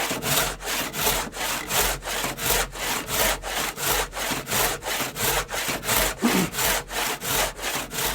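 A freshly sharpened, straightened and retensioned hand saw cuts through a wooden leg in loud, steady back-and-forth strokes, about two or three per second, with a rasping bite on each pass and no voices.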